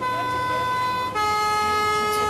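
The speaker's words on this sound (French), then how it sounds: "Vous effrayez pas sur la sirène." Ambulance siren wailing steadily and loudly from close by, its tone shifting pitch about halfway through, heard alone with no talk, at an accident scene with transport toward a hospital in Ixelles.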